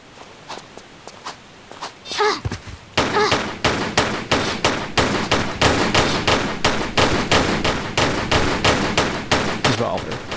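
Rapid, evenly spaced revolver shots ring out in a Tomb Raider level, a steady volley of about twenty sharp reports following a few softer footstep-like taps, loud and close with no talk.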